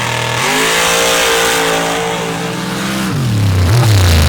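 A drag racing car makes a pass at a drag strip, its engine roaring loud and close and rising in pitch as it accelerates hard, with no voices over it.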